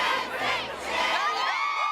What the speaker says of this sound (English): The crowd's pumped up